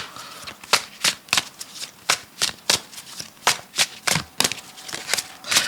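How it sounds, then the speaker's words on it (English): A deck of tarot cards being shuffled close by, a quick series of about fifteen crisp riffling bursts in a steady rhythm with brief gaps between them, loud and clear. "I'm going to pull one more card because I did pull that from the bottom of the deck"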